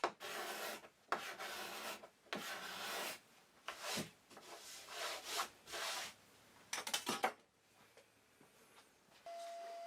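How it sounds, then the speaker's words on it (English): A card scraper drawn in repeated rasping strokes across reclaimed hardwood during a final finishing pass, several close scraping bursts separated by short pauses, followed by a faint tone near the end. "I then finish with the final pass with the card scraper."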